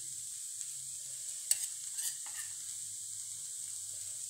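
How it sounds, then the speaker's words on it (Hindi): Grated ginger and garam masala frying in a pan for cabbage paratha, giving a thin, steady high sizzle with a few brief stirring clicks and scrapes. "ये हमने कद्दूकस करके अदरक रखी हुई है वो डाल दूंगी मैं।"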